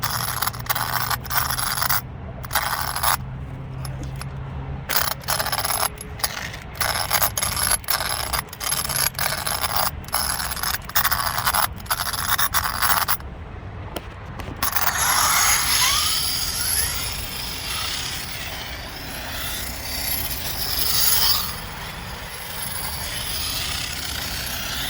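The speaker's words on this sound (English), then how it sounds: "That rear diff is locking up everything." An Arrma Kraton RC car's rear differential locking up, heard as a loud, rough mechanical grinding with rapid irregular clicks and ratcheting bursts, close by, giving way to a steadier whirring drive noise.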